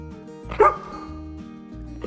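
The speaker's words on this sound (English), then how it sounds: "You bark, but the person's eyes are closed and can't speak." A dog in a kid-friendly cartoon gives a short, sharp yip-like bark near the start. It is set over steady, looping background music that continues throughout.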